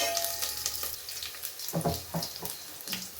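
Onion, four dried red chillies and curry leaves sizzle in hot oil in a pan, a steady frying hiss with a few louder bursts and clinks as they are dropped in and stirred; no talking.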